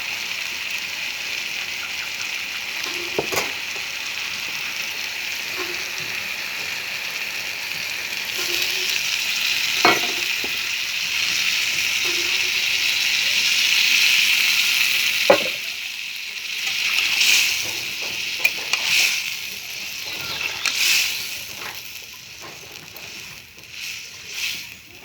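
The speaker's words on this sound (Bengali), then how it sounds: "একদম আলতোভাবে খুন্তি দিয়ে নাড়বেন।" Taro stolons are gently stirred with a spatula in a pan after water has been added, giving a steady bubbling simmer with occasional soft scrapes and clinks, up close, over about twenty-five seconds.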